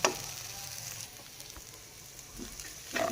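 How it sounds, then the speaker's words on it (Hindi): Moong dal halwa slowly roasting over a low flame, with a faint, quiet sizzle and occasional soft stirring scrapes, and a couple of louder knocks at the start and end. "तो हम क्या हल्की आंच पे इसको आराम से भून लेते हैं"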